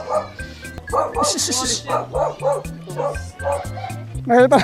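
A dog barks and yips in quick bursts with whimpering, close by, while a person talks over it throughout.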